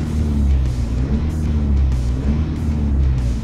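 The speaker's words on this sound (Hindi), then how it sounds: "डीजल क्लैटर जरूर है गाड़ी के अंदर, डीजल की आवाज जरूर है" A 2021 Isuzu V-Cross automatic 4x4 diesel idles at a standstill, its steady low engine clatter and hum heard from inside the cabin, continuous and fairly loud.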